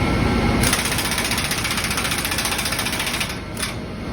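A loud hydraulic drill tightening bolts on a boat sea strainer whirs with rapid rattling pulses, running continuously close by, then briefly easing and picking back up near the end.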